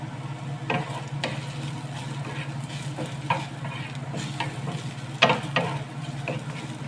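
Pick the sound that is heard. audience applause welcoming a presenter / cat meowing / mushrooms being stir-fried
mushrooms being stir-fried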